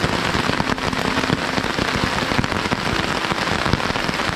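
Heavy, steady rain pours over a forest campsite during solo motorcycle camping, a dense hiss with scattered close drop hits as it comes down hard, with no talking.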